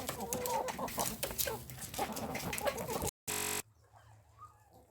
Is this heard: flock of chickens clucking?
yes